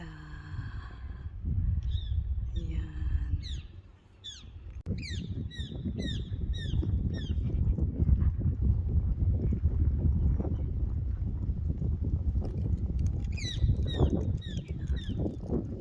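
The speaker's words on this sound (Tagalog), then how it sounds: "Ibon lang ang naririnig mo ngayon." Birds chirp and call repeatedly in short tweeting bursts, fairly close, over a low rumbling background.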